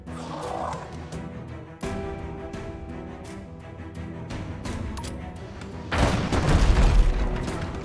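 Cannon fire during naval combat in the ship-battle video game Abandon Ship, a string of booming shots over continuous game music, with a heavier, louder burst of blasts near the end.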